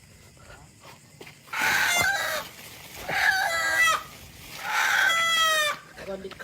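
A rooster crows three times in a row, each call long and loud with rising and falling harmonics, separated by short pauses over quiet background noise.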